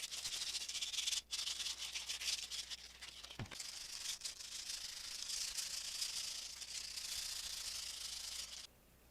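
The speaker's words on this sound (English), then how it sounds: "Sometimes it's easier to take a piece of sandpaper and curve it like this." Curved sandpaper rubbed across a piece of Cosclay, a soft, close, continuous scratchy hiss of sanding strokes with short pauses and one brief knock, fairly quiet overall and without talk.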